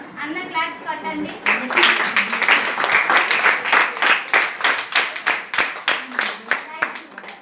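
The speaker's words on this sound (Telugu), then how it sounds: "అందరు క్లాప్స్ కొట్టండి." Schoolchildren in a classroom clap together in a quick, regular rhythm, many hands close by, with a brief voice at the start before the steady run of claps.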